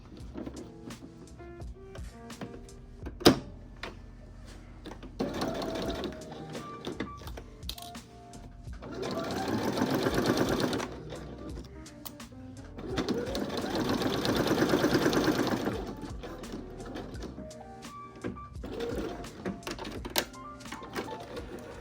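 A sewing machine stitches a seam on a patchwork denim trench coat, its motor whirring in bursts that swell and fade with a steady mechanical rattle, alongside faint clicks and handling noises.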